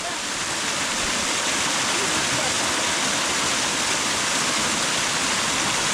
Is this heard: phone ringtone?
no